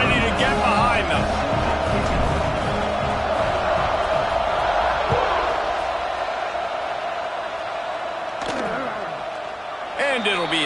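A football stadium crowd roars and cheers before kickoff in a college game, a dense, sustained wall of voices and whoops from far and near, with a commentator talking over it.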